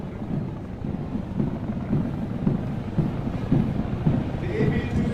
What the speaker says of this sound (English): The three aircraft formation about to overfly, comprising of an AB-205 helicopter, a Z-9 helicopter, and an AB-412 helicopter